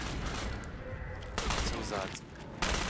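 Gunfire from the online tactical shooter Ghost Recon Online, a dense crackle of shots running through the clip with two sharper bursts standing out, mixed with someone speaking briefly.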